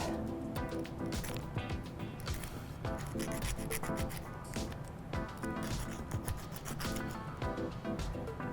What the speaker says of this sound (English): So we're just gonna do just a little filing.